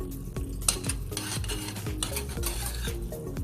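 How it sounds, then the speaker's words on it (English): Egg is stirred into a thick mac and cheese mixture with a utensil, giving a steady run of close, wet scraping strokes against the bowl in a regular rhythm. "And then we're just gonna stir that in."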